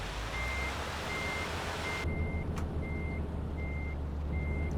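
Reverse warning beeps from a truck backing up in a driving game, a steady series of evenly spaced tones over a loud continuous engine rumble, with a brief click partway through.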